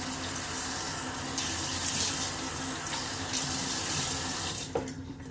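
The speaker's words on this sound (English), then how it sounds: "I'm just gonna splash my face with some warm water." Warm running water pours steadily from a tap into a sink, a continuous close splashing rush that cuts off near the end.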